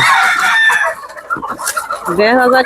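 Chickens cluck and squawk loudly up close, overlapping calls with a rooster-like crow rising near the end.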